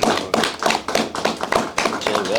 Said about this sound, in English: let's get a round of applause for Rapid Fire Tommy Gunn and John Bullard